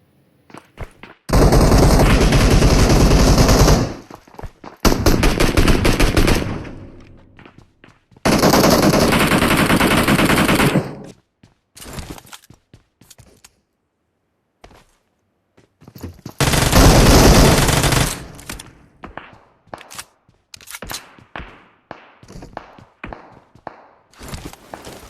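Automatic gunfire in a shooter video game comes as loud, sharp bursts of a few seconds each, separated by gaps and scattered single shots and footsteps.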